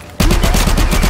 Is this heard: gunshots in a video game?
yes